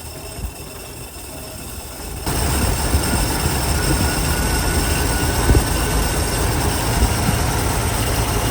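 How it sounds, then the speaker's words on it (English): A 1942 Dodge flathead truck engine runs with a worn belt squealing, a loud continuous high whine and roar that swells abruptly after a couple of seconds and holds steady. "the belt's squealing today"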